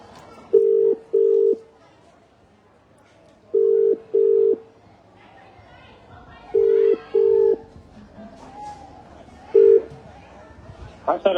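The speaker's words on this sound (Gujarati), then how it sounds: "આપણે સામેથી ફોન લગાવી લઈએ।" A phone call is placed and a ringback tone sounds in paired beeps, repeating three times with a single beep at the end. Between the tones there is faint background noise and some murmuring, loud and close.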